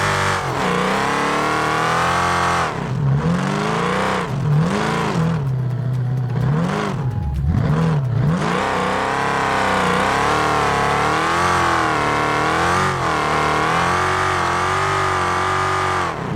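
A loud custom V8 engine in BeamNG.drive roars continuously, revving up and down through several rising and falling sweeps, close and powerful throughout.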